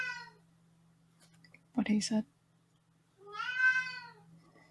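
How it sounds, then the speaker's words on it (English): A cat gives two drawn-out meows, one at the start and a longer one near the end, with a short burst of speech between them. "is just up meowing."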